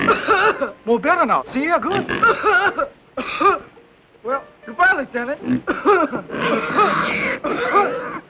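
Someone speaks in halting phrases broken by rough throat-clearing coughs, close and loud.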